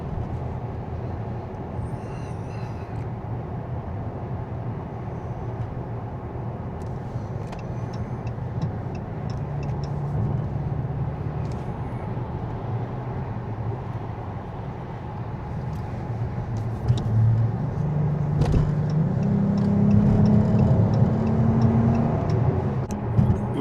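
A car drives along a road in evening traffic: a steady, close engine and tyre rumble runs throughout, with a louder swell of passing vehicles near the end and some faint ticking.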